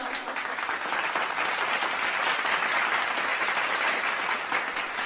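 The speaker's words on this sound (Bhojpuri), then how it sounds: "सब लोग इसके लिए ताली बजाओ।" Audience applause during a Bhojpuri stage show, steady dense clapping that holds at even strength for the full five seconds, fairly close and with no voices over it.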